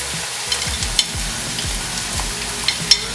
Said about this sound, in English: And let that sizzle.